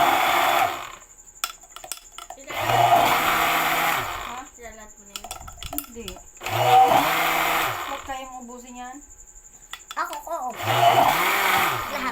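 Electric blender whirring in loud bursts while blending a mango shake, three runs separated by pauses in which people talk, with voices also heard under the motor.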